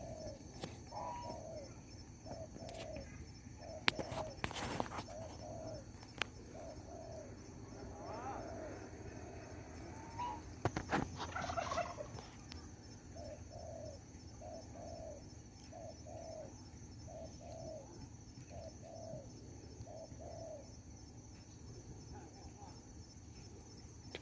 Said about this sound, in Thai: นกต่อยังคูอยู่นะครับ